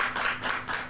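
Steady applause from an audience at a Bible quiz game show, a continuous wash of clapping hands lasting about a second with no voices over it.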